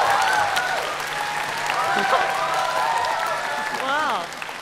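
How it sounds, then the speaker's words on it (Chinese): Audience applause fills a TV dance talent show stage as the next dancer is welcomed, steady clapping and crowd noise throughout with a brief exclaimed voice near the end. "让我们掌声欢迎下一位舞者挑战舞台"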